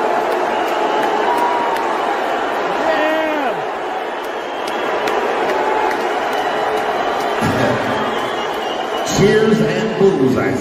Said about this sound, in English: All those people are booing